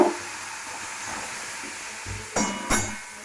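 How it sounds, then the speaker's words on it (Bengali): Onions hitting hot oil in a pan after dry red chillies and black cumin, giving a steady low hiss with two louder sizzling bursts near the end as the pieces go in. "পেঁয়াজটা আমরা একটু হালকা ভেজে নেবো।"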